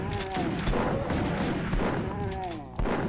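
Shotgun blasts ring out in a Doom map during a Deus Vult II ambush, dense booming shots layered over game effects and monster noise, with a person talking over the top.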